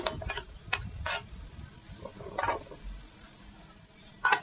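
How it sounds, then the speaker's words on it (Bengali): A spoon scrapes and stirs jackfruit and spice curry in a pan, making several short, separate scraping strokes over a low sizzle, close by and with no talking. "ভালোভাবে নাড়বো চাড়বো অফ ক্যামেরায়ও আমি নাড়ছি আর এভাবে নেড়ে চেড়ে নেব"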